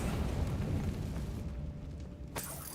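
A Confringo fire spell erupts in Hogwarts Legacy with a loud, rumbling explosion that fades into a steady roar, then a sharp crackling burst near the end.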